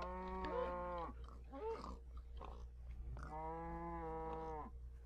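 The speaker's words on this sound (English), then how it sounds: "Kill that cow too!" Minecraft cow mooing twice, loud and close, two drawn-out harmonic moos separated by a short burst of rustling game noise.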